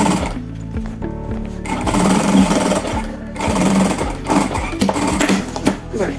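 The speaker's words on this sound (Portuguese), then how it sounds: "Venho aqui, frente com frente, faço uma costurinha." Sewing machine stitching bias binding onto a thermal lunch bag, running in steady rhythmic bursts of needle chatter with short pauses between runs, close and fairly loud throughout.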